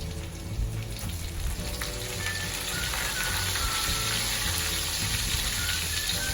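Garlic and dried chili frying in a pan, a steady dense sizzle with crackling that holds at a moderate level throughout, with no talk.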